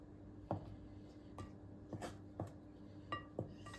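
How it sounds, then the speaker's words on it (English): A spoon mixing wet ingredients in a bowl, with a series of faint, separate clinks and scrapes against the bowl at an uneven pace, quiet and close with no voices. "let's just use this spoon to mix it up"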